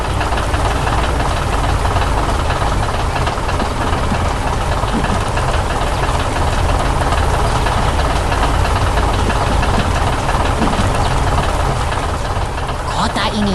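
Cars and machines run in an animated grape-harvest scene with a conveyor, giving a loud, dense and continuous engine rumble with a knocking texture that never lets up.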